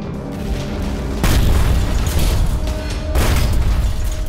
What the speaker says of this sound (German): Er wirft 2 Wasserbomben ab.